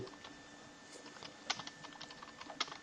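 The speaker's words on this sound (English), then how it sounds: "Hope you can hear my keyboard, it makes it more fun" Steady clacking of computer keyboard typing runs throughout at close range, quick key taps with a few louder stabs, alone without talk.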